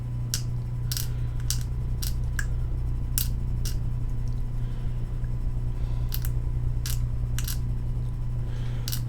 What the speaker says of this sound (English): We're just taking down some of it with our scalpel here